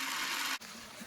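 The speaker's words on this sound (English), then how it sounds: "And we got running water" Water gushing from a micro hydro penstock outlet in a steady, loud broadband rush that drops abruptly partway through, then continues at a lower, rougher level.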